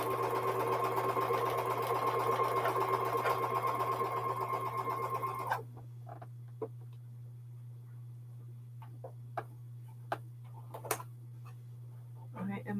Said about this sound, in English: it doesn't take us too long to get sewing again